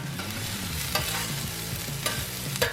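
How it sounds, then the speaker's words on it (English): Baby bella mushrooms and onions sauté in stir fry oil on a hot surface, giving a close sizzle with quick scraping strokes of a utensil recurring every second or so. "And we're going to saute them up."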